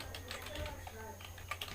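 Keys tapping as a password goes into a computer keyboard, a quick, quiet patter of clicks heard close but softly, with a person speaking over part of it.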